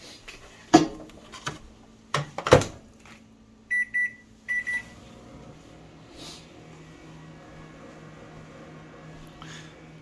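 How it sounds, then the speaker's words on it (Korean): A microwave oven runs in a home kitchen, heating a low-sodium, high-protein boxed meal: a steady low hum under scattered clunks and knocks, with a few short electronic beeps near the middle. "지금 전자레인지가 돌아가고 있는데"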